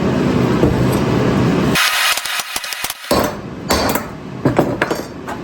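Sharp metallic hammer strikes drive a bearing race into its housing on a 1979 Ford F150, a quick irregular series of loud clanks after a stretch of steady noise, with no voices.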